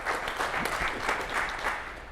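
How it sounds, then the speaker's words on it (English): An audience claps steadily and continuously, a dense crackle of many hands heard from a distance, fairly quiet overall. "Unrehearsed applause"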